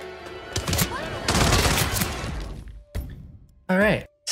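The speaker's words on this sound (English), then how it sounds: "why are you shooting me?" Gunfire aimed at the player in the Hitman 3 video game, a loud dense burst of rapid shots lasting a couple of seconds, followed by scattered single reports, with a voice speaking at the end.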